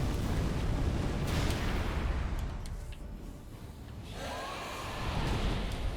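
Roaring fire attack in the Dark Souls 3 video game, a sustained broadband rush and crackle that swells early, dips briefly in the middle, then surges back loud and close to the end.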